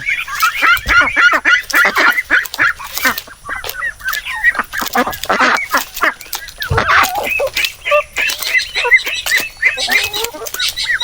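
A native hen clucking at a farm house, repeated close clucks and squawks mixed with other fowl calls, loud and continuous throughout.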